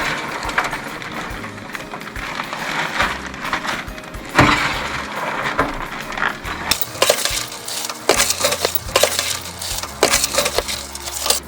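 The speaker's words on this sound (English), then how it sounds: "we're gonna put our popcorn in it so we can get our seasoning on it" Hot popcorn spills into a 2-gallon Ziploc bag, giving a busy, close rattle of light kernels and crinkling plastic that comes in bursts and then grows denser.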